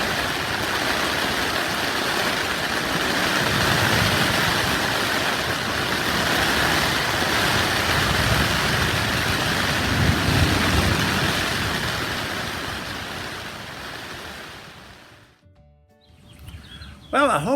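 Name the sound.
rain at campsite, Topsail Hill State Park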